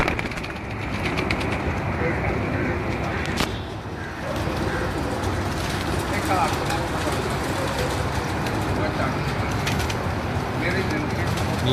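Kamkar breed breeder pigeons coo steadily on a rooftop, their soft calls half buried in heavy ambient noise, with someone speaking throughout.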